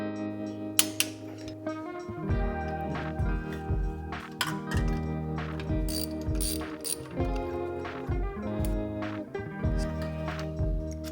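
A ratchet turns a magnetic spark plug socket to remove a car's spark plug, giving a continuous run of close, rhythmic clicking with brief metallic clinks.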